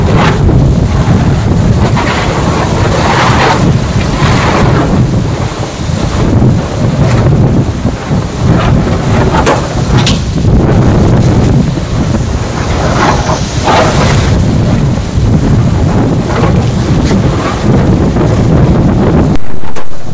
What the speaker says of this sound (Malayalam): ഭയങ്കരമായ കാറ്റാണ്,